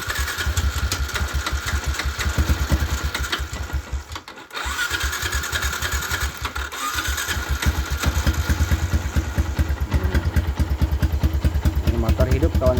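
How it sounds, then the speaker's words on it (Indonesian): Yamaha Jupiter MX motorcycle engine, left unused for five months, cranking and then starting into a steady, close, rapid idle putter with a brief dip partway through; someone talks over it. "Motor hidup kawan-kawan ya."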